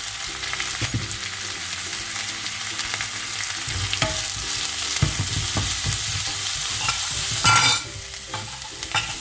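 Sliced onions frying with salt in a pan for a Kerala-style fish molee, a continuous close sizzle broken by repeated scraping stirs of a spatula, with no talking.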